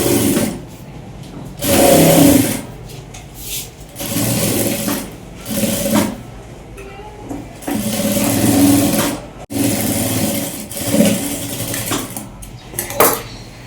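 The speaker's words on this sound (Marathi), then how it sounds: "त्यानंतर आहे ना अशी किनारी टिप मारून घ्यायची" A sewing machine stitches a border on a blouse in repeated bursts of close, loud mechanical whirring, with pauses and faint clatter between runs.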